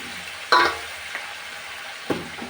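Catfish stir-fried in a wok with fish sauce and a splash of water for a spicy Thai dish, giving two short scraping, sizzling bursts over a quiet hiss, with no talking.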